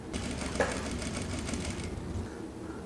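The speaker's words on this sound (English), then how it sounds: "you can sew with the thicker thread on the DDL 8700" A Juki DDL 8700 industrial sewing machine stitching with thick thread and a large needle, running in a short steady burst of fast rhythmic clatter, then stopping.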